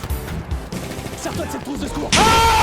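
Bursts of Battlefield 1 pistol gunfire crackle over a busy battle soundscape, with a sharper, louder volley of shots near the end.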